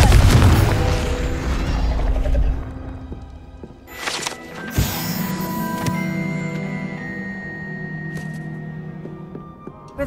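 A Confringo blasting spell explodes in the video game Hogwarts Legacy, with a deep boom and crash near the middle followed by rumbling, mechanical debris and ringing tones.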